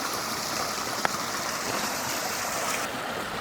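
Small trout creek running through a culvert, a steady broadband rush of flowing water that holds constant throughout, moderately near, with no voices.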